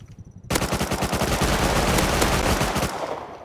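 Rapid automatic gunfire in the survival game Rust during a trainyard fight, a dense, loud burst of shots that starts abruptly and runs steadily for about two and a half seconds before cutting off.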